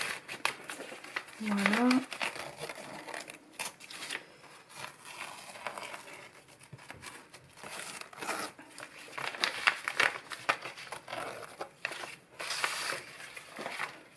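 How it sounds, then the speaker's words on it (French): Masking tape is peeled off a paper art page in crinkly, tearing bursts of varying loudness, close by, with a brief spoken word early on. "je vais enlever le masking tape"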